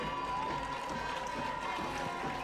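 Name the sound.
cheerleaders performing a cheer at a high school football game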